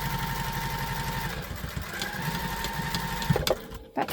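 Sewing machine back stitching a tote bag pocket, a rapid steady mechanical chatter running close and continuous, with a short pause and a couple of clicks near the end.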